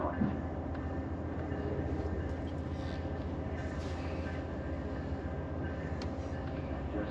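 Steady low rumble and rattle of Amtrak Train 20 riding along the rails, continuous and even, heard from inside a passenger carriage.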